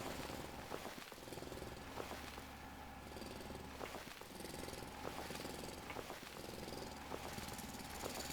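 In the video game Foundry, a drill grinds into rock with a steady mechanical churn, broken by regular rhythmic pulses about once a second, moderately loud with no one talking.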